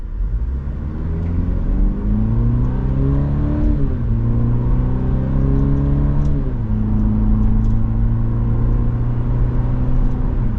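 A 2024 Cadillac CT4 Luxury AWD sports sedan engine accelerates loudly and up close, its pitch climbing and then dropping twice as it shifts up through the gears.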